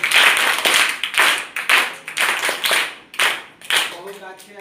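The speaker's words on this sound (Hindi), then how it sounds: "इनके लिए हम लोग जोरदार ताली बजाएंगे" Students and teachers clap for children's school projects in a classroom, with several close, uneven bursts of group clapping rising and fading, and voices mixed in.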